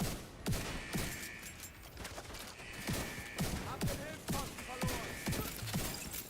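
Gunfire in the video game The Division 2 comes as rapid, repeated shots in an ongoing firefight, with someone talking over it.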